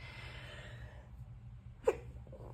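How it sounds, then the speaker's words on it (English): A single sharp sneeze bursts out close by, brief and loud against a quiet background hiss, with no talking around it. "Excuse me, I just had to sneeze."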